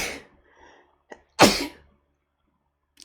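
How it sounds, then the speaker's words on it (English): A single loud, sharp sneeze bursts out close to the mic, preceded by a short sharp intake and a faint click, with quiet pauses around it during a Lichess chess stream. "I'm definitely sneezing."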